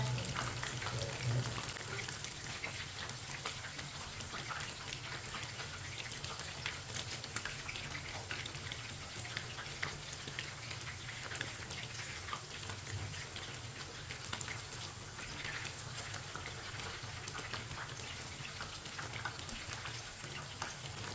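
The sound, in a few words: chicken frying in a pan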